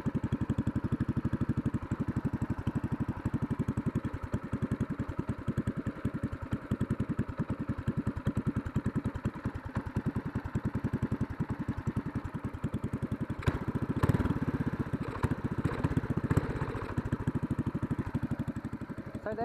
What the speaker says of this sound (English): It has a bit of exhaust leak right now